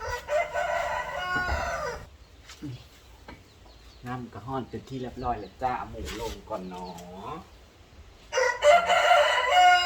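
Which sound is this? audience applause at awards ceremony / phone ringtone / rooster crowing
rooster crowing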